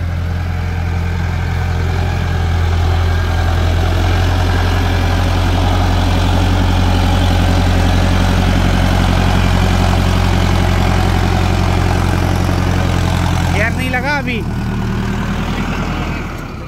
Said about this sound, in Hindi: ये चल रहा है ट्रैक्टर।